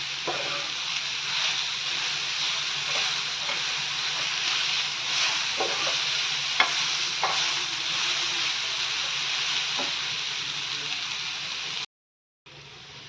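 Shredded cabbage seasoned with salt fries on a hot tawa, a continuous close sizzle broken by occasional spatula taps and scrapes as it is mixed, running for a long stretch before cutting to silence briefly near the end.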